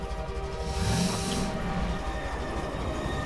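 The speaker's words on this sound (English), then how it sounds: "Wait for the train to pass." A train passing in the Half-Life 2 video game, a loud continuous rumble with hissing and faint tonal whine, steady throughout with a brief swell of hiss early on.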